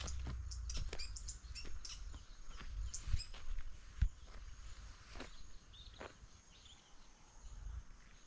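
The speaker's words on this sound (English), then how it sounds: "You can hear the sound from the birds here." Birds chirp and tweet in short scattered calls against a quiet outdoor background, with a few soft footsteps or rustles nearby.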